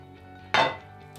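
A pot lid lifted off a pot of freshly cooked sushi rice makes a single short metallic clink, close and clear, followed by quiet.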